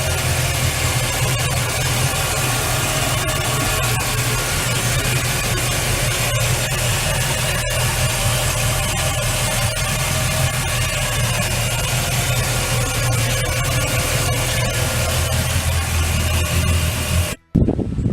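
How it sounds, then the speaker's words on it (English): A 2007 Regal 2665 Commodore boat engine idles steadily and loudly nearby, with a thick hissing wash over a low rumble. It runs unbroken until a sudden brief cutoff near the end. "Now on the boat, you can hear it running"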